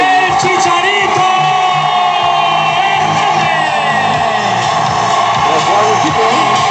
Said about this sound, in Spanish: Que se escuche bien fuerte el aplauso para Javier el Chicharito